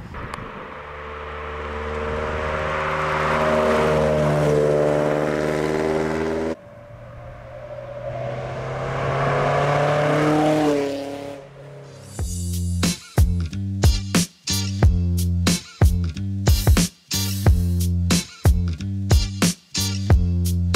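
A mid-engine Toyota MR2 sports car engine drones loudly and climbs in pitch as it goes by, then barks through a run of sharp, choppy revs and gear changes.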